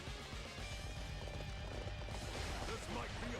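Horse galloping in the video game Dynasty Warriors 8 Xtreme Legends, a fast steady clip-clop of hooves heard up close under game noise and talk.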